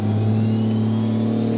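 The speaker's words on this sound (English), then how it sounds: "Just do a wide open throttle till like 60 mile an hour" A twin-turbo Cummins diesel truck engine held at wide open throttle drones loud and close with a steady, deep roar. The pitch stays level with no pauses.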